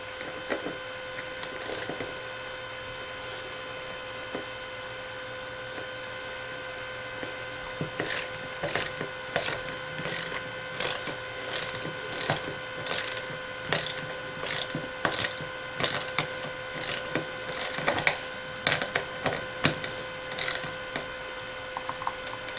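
A ratchet tightens a wrap around a mug blank in a crafting setup, with bursts of sharp repeated clicking in quick runs and short pauses over a steady mechanical hum.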